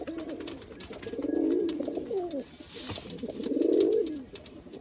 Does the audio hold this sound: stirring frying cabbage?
no